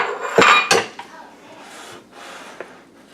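Stiff, dry butter horn cookie dough is mixed by hand in a bowl, with two sharp knocks of a utensil against the bowl early on, then muffled rubbing and scraping and a final small tap.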